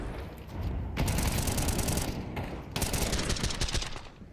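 Rapid bursts of rifle gunfire from a Counter-Strike esports match, dense crackling volleys in two main stretches with brief gaps, loud and close, without any talk.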